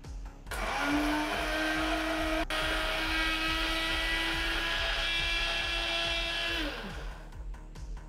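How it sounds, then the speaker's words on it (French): Blender running steadily for about six seconds, whirring loudly as it grinds spices with fennel seeds, spinning up after a brief start and winding down at the end, no talking. "maintenant il n'y a plus qu'à mixer"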